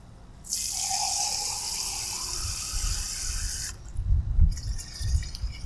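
Water pours steadily into a one-gallon garden sprayer for about three seconds, then stops, followed by a few dull bumps and handling knocks.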